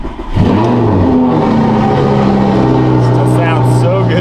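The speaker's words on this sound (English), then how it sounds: "Here is a cold start." A Lamborghini Gallardo engine cold starts and quickly settles into a loud, steady idle with a deep rumble, close by and continuous.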